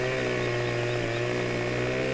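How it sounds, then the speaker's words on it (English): Chainsaw cutting through a log in the video game Farming Simulator, a steady buzzing engine drone held continuously without pause, fairly loud and even. "You don't have to move the chainsaw at all on your own."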